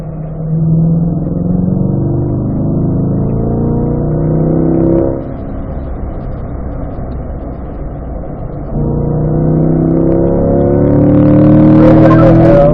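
A car at a performance driving school drones loudly from close inside the cabin, its engine pitch rising, dropping sharply as it downshifts around the midpoint, then climbing again under acceleration toward a high-revving finish.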